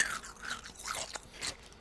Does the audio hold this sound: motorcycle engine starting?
no